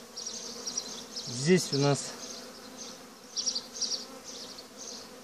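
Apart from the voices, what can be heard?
honeybees buzzing at a hive during spring inspection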